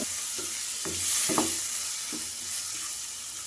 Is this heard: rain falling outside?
no